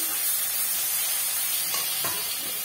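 Spices and mustard paste fry in a pan for a Bengali mustard fish curry, a steady broadband sizzle throughout with a couple of faint utensil scrapes near the end.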